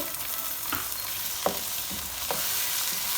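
Chopped tomatoes go into a hot pan and sizzle steadily as they are stirred, with a few scraping strokes audible close up and no talking.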